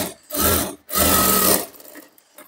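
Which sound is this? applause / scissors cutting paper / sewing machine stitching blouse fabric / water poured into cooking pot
sewing machine stitching blouse fabric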